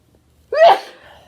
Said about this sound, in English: I'm going to sneeze on my podcast.